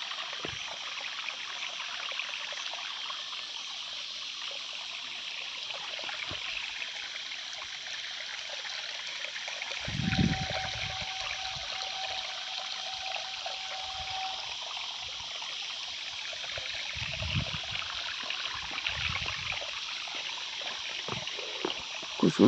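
Waterfall water flowing over hillside rocks in Jharkhand, a constant soft hiss of running water carrying on throughout, with a few faint low bumps and a brief tone partway through.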